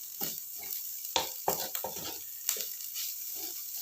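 Eggs being scrambled in a frying pan for nasi goreng with sambal oncom, heard as a spatula scraping and stirring in quick irregular strokes over a soft sizzle, close and with no talking.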